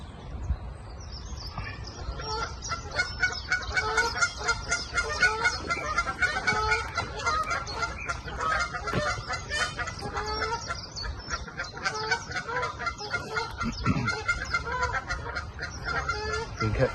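A flock of geese honks at a lake during a morning of carp fishing, with loud, overlapping, repeated calls continuing throughout at close to middle distance.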